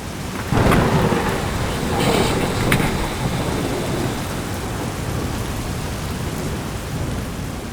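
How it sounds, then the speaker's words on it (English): A night thunderstorm on the Mississippi River with a loud crack and rolling rumble of thunder over steady heavy rain, then continuous downpour. "We were woken up by loud thunder"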